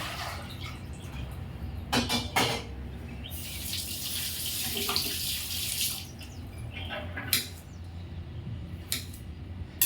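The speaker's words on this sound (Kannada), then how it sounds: "ಸ್ವಲ್ಪ ನೀರನ್ನ ಸೇರಿಸ್ಕೊತಾ ಇದ್ದೀನಿ ಕುಕ್ಕರ್ಗೆ." Water pours into a pressure cooker in a home kitchen during breakfast cooking, a steady running splash that swells through the middle and comes with a few sharp knocks and clinks of the pot.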